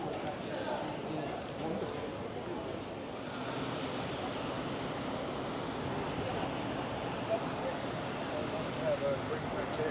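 Ocean surf on Sydney's northern beaches along the Tasman Sea washes in as a soft, continuous roar mixed with wind noise, distant and fairly faint, with faint voices underneath.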